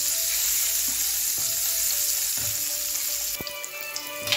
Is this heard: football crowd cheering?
no